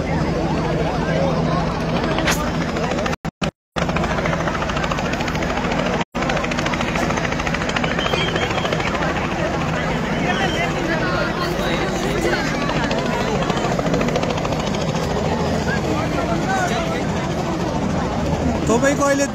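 A helicopter drones near a plane crash rescue site by the Seti River in Pokhara, a loud steady rotor roar throughout with people shouting and talking over it.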